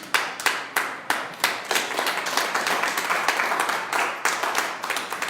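Church congregation clapping in applause for the Lord during a Spanish-language sermon, dense rhythmic handclaps from many people, loud and close, with sharp individual claps early on blending into steady applause.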